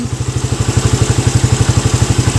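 A motorcycle engine fitted with a Nibbi roundslide 30mm carburetor idles close by, a loud, steady low putter with evenly spaced pulses and no voices.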